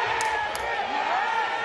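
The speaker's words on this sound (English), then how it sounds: "The crowd seems to be going crazy" A wrestling crowd at a UCW Zero show roars and cheers steadily, a dense wash of voices with a couple of brief sharp whoops, heard under a commentator talking over it.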